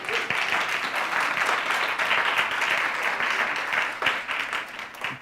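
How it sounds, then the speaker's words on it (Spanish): A congregation applauds Gil, producing continuous, even clapping from a sizeable group of listeners, sustained throughout at moderate volume. "Dele un aplauso a Gil que nos apoyó."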